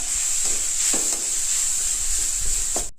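Ground masala being stirred into tomato in a hot pan, with a continuous sizzle and several soft scraping strokes of the spoon, close and loud, ending abruptly.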